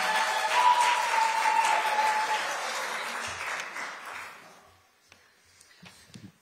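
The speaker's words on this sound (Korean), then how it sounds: "뜨거운 박수로 환영해 주시기 바랍니다." Audience at a book launch event clapping to welcome a National Assembly member to the stage, a warm full round of applause that fades out over a few seconds, leaving scattered faint sounds.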